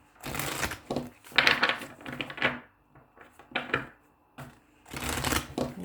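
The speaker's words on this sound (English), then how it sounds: "I'm going to do one more shuffle." Close-up riffling and flapping of an oracle card deck being shuffled in several quick bursts separated by brief pauses.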